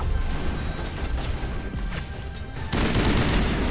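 Rapid gunfire from a Geth firefight on Therum in Mass Effect Legendary Edition: dense bursts of shots over a steady battle din that surges louder near the end, with no talking.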